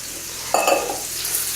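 A vegetable frittata sizzles and crisps in a hot pan, a steady close frying hiss that swells with a louder crackling burst partway through, no talking over it.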